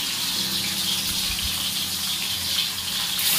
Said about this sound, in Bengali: কড়া তেতে গেছে, একটা একটা করে মাছ দেব